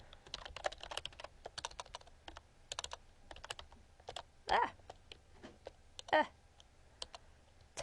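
Rapid, light keyboard typing with irregular clatter, punctuated by a couple of louder key thumps, recorded up close in a quiet room.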